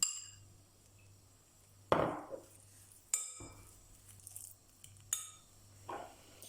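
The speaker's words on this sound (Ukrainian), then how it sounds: "Додаємо майонез і перемішуємо все до однорідності." Sprats and mayonnaise mixed in a bowl with a spoon, giving a few sharp clinks and knocks of metal on the bowl spaced a second or so apart, close and quiet, with soft scraping between them and no voices.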